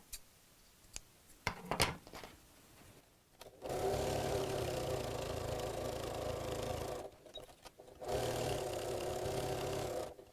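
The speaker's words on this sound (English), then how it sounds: "I'm going to top stitch" Topstitching a scalloped clutch flap, a sewing machine whirs in two long steady runs separated by a short pause, preceded by scattered light clicks and handling noises.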